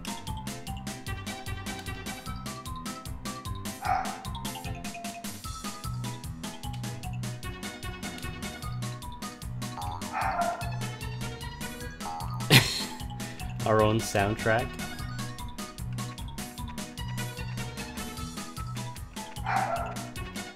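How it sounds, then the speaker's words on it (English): A streamer's dog barks and yips a few times over retro platform game music while playing Alfred Chicken on the Amiga CD32, the yaps coming in short bursts, with the streamer talking now and then. "My dog didn't like that sound."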